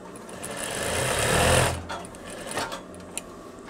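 A sewing machine runs backstitching on a pocket of a veterinary coverall, its rapid needle chatter swelling loud for about a second and a half, then continuing in softer short bursts with small clicks.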